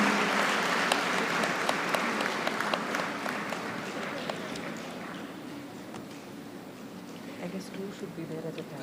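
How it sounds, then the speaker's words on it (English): Audience at a university convocation applauding steadily, a dense clatter of many hands that gradually thins toward the end, with a voice faintly over it. "Let the applause continue, please."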